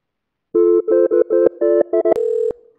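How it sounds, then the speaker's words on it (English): A telephone ringback tone plays in a series of short repeated tonal bursts, then one longer steady tone, loud and close with no talking over it. "this is where it rings now"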